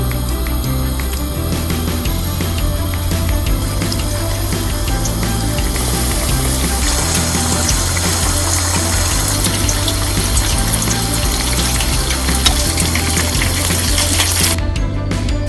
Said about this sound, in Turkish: Şimdi kroketleri kızartmaya başlayacağım.